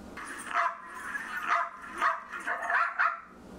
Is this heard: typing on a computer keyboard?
no